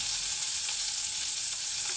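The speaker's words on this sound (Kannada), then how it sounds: "ಒಂದು ಸ್ವಲ್ಪ ಎಣ್ಣೆ ಹಾಕ್ಕೊಳ್ತೀನಿ ಮೆಣಸೆಲ್ಲ ಹುರಿಯೋಕ್ಕೆ ಸ್ವಲ್ಪ" Dried chillies and garlic fry in hot oil with a steady, dense sizzle and crackle, close and continuous without a break, and no one speaks.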